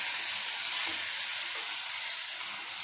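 Onion frying in a pan with curry leaves and green chillies for a village-style ridge gourd saaru, a continuous dense sizzle, close and steady, with no voices.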